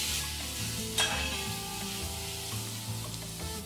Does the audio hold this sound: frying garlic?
yes